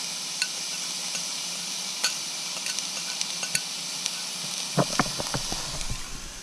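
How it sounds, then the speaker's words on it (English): Garlic, ginger and chilies sizzle in a pan aboard a widebeam boat, a steady frying hiss with a few sharp stirring clicks and scrapes toward the end, close and moderately loud with no talk. "So we'll add the garlic and the ginger."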